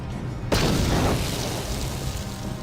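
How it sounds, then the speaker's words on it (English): A grenade blast in Star Wars: Knights of the Old Republic, a sudden loud boom that rolls into a long, dense rumble and fades slowly over a couple of seconds, with steady game ambience beneath. "Let's go ahead and lob a grenade over there."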